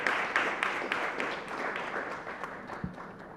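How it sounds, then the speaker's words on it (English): A crowd gives a round of applause at a live agritech awards event, a broad dense patter of many hands clapping steadily throughout with a few sharper claps standing out. "Please give them a big round of applause."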